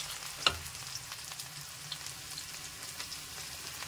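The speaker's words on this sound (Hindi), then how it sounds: "हमारा तेल काफी हीट हो चुका है, धुआं निकला है, तो इसमें लहसुन डाल रहे हैं" Garlic hits smoking-hot oil for a spinach nimona and sizzles in a steady, close crackle, with one sharp pop near the start over a soft, continuous frying hiss.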